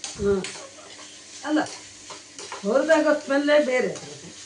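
Onions fry in a pan for a home-style tempered sajjige rotti recipe, giving a soft sizzle and stirring scrapes under intermittent conversational voices.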